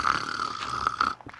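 Snoring sound of a sleeping mob in the Minecraft video game, a steady tonal rasp with a few short swells and catches, close and fairly loud before cutting off near the end.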